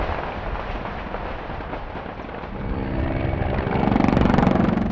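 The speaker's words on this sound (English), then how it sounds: "who responded with a storm of small arms fire" Dense, continuous crackle of small arms fire from rebel fighters in the battle for Donetsk International Airport, with a rumbling helicopter engine roar building toward the end, busy and chaotic throughout.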